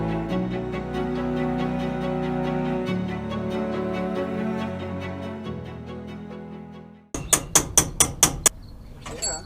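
Sharp metallic hammer blows ring out about six times in a quick, even rhythm, striking car parts in a workshop working on a 1955 Chevy gasser wagon, after a long stretch of steady machine-like tones.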